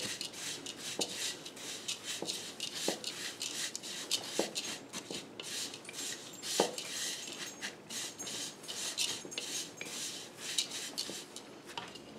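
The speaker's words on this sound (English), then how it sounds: "then I'm going to add in the salt and the cinnamon. And I'm just going to stir that just until it's combined" Oats with salt and cinnamon are stirred in a bowl for granola, a faint, continuous scraping and rubbing with light clinks of the utensil against the bowl.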